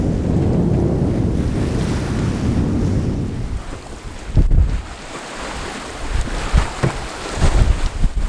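Steady wind and surf wash around a sailboat under full sail on a calm sea off Brittany, a broad continuous rush with sharper splashes of waves against the hull breaking through toward the end.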